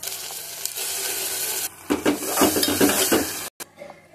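Ground dal poured into a sizzling tempering in a pan for a dal and amaranth leaves dish, a loud steady hiss that breaks into a burst of crackling and stirring clatter, then cuts off abruptly.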